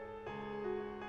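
Sustained low piano notes ring out with a rich, resonant tone, a new note struck around the quarter-second mark and another near the end, no voices.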